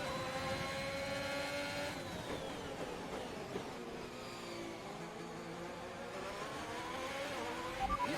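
Formula 1 race car engines from the F1 2021 racing game wail at high revs, with pitch sweeping up and down as cars overtake, loud and continuous throughout without talk.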